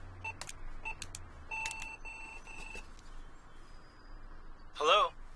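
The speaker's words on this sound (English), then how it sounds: "Did I dial it wrong?" A telephone's keypad gives a series of short dialing beeps, followed by a louder warbling tone near the end, over a quiet background.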